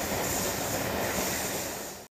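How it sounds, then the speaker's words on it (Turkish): The tourist Doğu Ekspresi train rolling away after a stop, a dense, loud rumble of wheels and carriages on track, close and steady for two seconds before cutting off abruptly. "Molanın ardından tren yeniden koyuldu yola."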